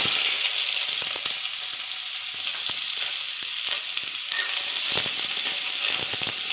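Onions fry in hot oil for a paneer butter masala, giving a steady bright sizzle with scattered crackles and occasional stirring clicks, close up and with no speech over it.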